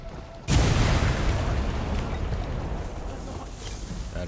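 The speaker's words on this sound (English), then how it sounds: "That is a gigantic explosion." A gigantic explosion in the video game Flintlock lands as a sudden loud blast after a brief quiet lead-in, then rolls on as a dense, sustained rumble and crackle that slowly fades over several seconds.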